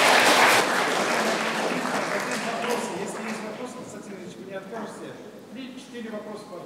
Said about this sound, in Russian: Да, вначале аплодисменты.